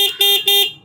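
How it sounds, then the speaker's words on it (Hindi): An electric trike's horn sounds close and loud, two short bright electronic beeps in quick succession, each ending in a brief fading tail, with no talking. "हॉर्न का मैं एक बार आप लोगों को साउंड सुनाया था"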